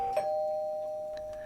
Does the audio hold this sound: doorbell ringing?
yes